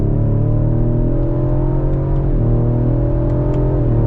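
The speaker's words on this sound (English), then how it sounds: "You do hear quite a bit from the engine, not a whole lot from the exhaust." A 2021 Ford Explorer ST's engine drones loudly from inside, its pitch climbing steadily under acceleration with a brief dip as it shifts gear.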